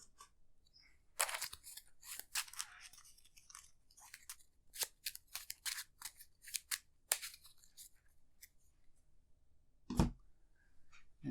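A deck of Arkham Horror card-game cards is shuffled in a quiet room, giving several quick, crisp riffling bursts of papery flicks and snaps, then one louder slap near the end.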